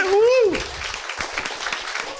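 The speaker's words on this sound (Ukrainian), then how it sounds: "Оплески Віталію і Тані." A live improv comedy audience claps briefly after a strong voice exclamation at the start. The applause is moderate and mixed with room noise, and it fades as a voice continues over it.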